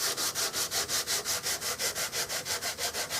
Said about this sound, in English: I'll sand this way a while, and I'll go all the way from here to here, sanding that direction